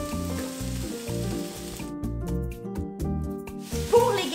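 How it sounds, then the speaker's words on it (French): Onions and peppers hit a very hot pan of olive oil for fajitas, giving a soft, steady sizzle that sits under and between louder melodic background music. "un poêlon très chaud avec de l'huile, moi j'utilise de l'huile d'olive, je vais venir déposer"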